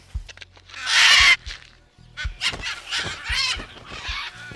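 A crowd of parrots of many species squawks and screeches at a forest clay lick, harsh overlapping calls in close bursts, one long loud outburst near the start followed by scattered shrieks and chatter.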